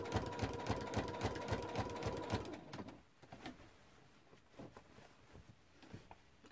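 Sewing machine fitted with a walking foot appliqueing circles, a close, steady rhythmic stitching chatter for about two and a half seconds, followed by softer scattered clicks and handling noises.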